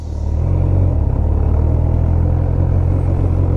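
A Honda CB1000R motorcycle engine runs at a steady low idle and rumbles loud and close, staying constant for the whole stretch with no voices.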